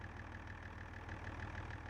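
A loader tractor engine idles steadily in a low, even rhythmic chug with a faint ticking pulse, quiet and continuous with no voices.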